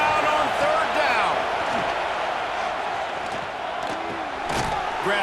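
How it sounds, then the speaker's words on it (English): Dense roar of a football stadium crowd on a third down with the Gators' defense on the field, a loud continuous wall of yelling and cheering with shouts rising above it throughout. "This crowd unhinged, trying to make sure the Gators don't back down on 3rd down."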